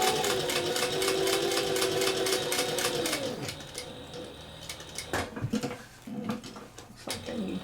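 Sewing machine stitching a cork envelope wallet: a fast, steady mechanical whir with rapid needle ticks for about three seconds, winding down into slower, uneven stitches and clunks of the fabric being turned.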